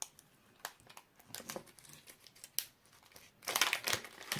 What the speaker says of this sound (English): I can open up the bag.